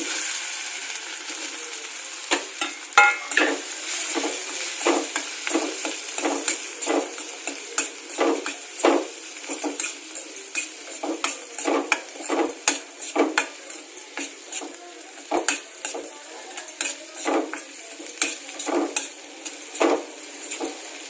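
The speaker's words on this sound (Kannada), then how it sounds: "ಅಚ್ಚಿ ಖಾರದ ಪುಡಿ ಹಾಕ್ತಾ ಇದ್ದೀನಿ ಹೆಚ್ಚಿಟ್ಕೊಂಡಿರೋಂಥ ಆಲೂಗಡ್ಡೆ ಹಾಕ್ತೀನಿ" Chopped potatoes with chilli powder fried in a pan, a long run of sharp metallic spatula scrapes and taps over a light sizzle, close and steady without talk.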